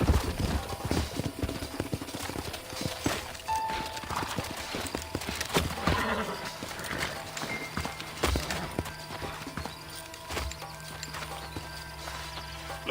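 Hooves clip-clop steadily on hard ground with an occasional horse whinny, alongside scattered game-like effects and brief voices, in the video game Red Dead Redemption.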